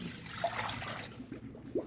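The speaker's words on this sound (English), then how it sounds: "So I'm going to drain this water." Water trickling and dribbling as it drains out of a flower vase indoors, a soft continuous pour with a small splash near the end, fairly close and quiet, no talking.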